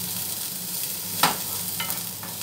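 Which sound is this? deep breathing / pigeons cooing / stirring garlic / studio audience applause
stirring garlic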